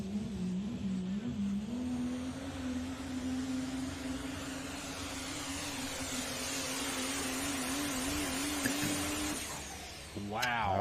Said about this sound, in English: we got another Diesel Super launching